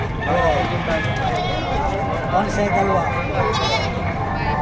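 Goats bleating amid a busy outdoor crowd at a livestock auction in Padre Garcia, Batangas, with overlapping chatter and background noise throughout.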